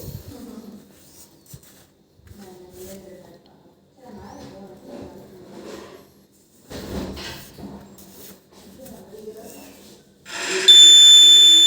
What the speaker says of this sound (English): Now you can hear the buzzer sound.